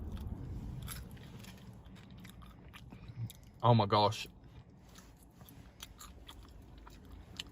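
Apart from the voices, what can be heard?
biting and chewing crunchy battered fish and chips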